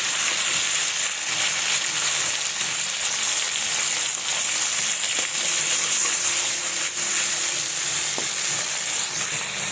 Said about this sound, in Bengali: তো আমি টমেটোগুলোকে ভেজে নেব।